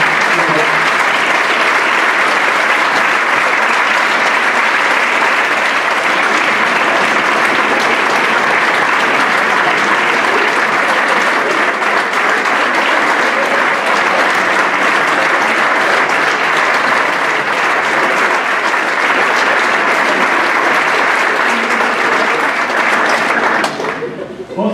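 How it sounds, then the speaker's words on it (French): A conference audience gives a long, loud ovation for the guest speaker, dense steady clapping filling the hall for over twenty seconds before it cuts off abruptly at the end. "place à Marc-Alain, sous un triomphe d'applaudissement"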